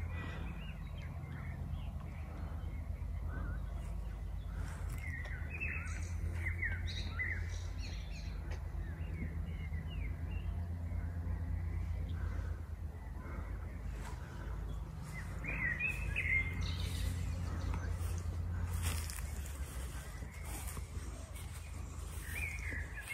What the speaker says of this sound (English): the bird song is probably better than my voice